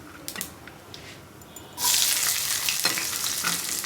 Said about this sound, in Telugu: బీట్రూట్ ఫ్రై చేస్తున్నాను ఫ్రెండ్స్.